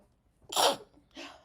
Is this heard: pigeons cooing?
no